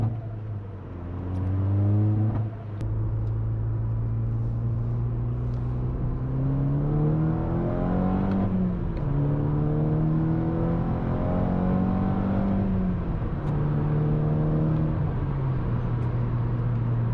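A modified Volkswagen Scirocco R on coilovers drives along a clear road, its engine droning from inside the cabin and rising and falling through repeated gear changes and acceleration, loud and steady throughout.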